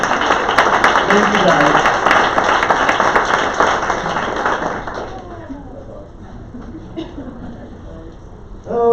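Sales meeting audience applauding loudly and steadily for several seconds, then tapering off as someone speaks briefly over the fading claps.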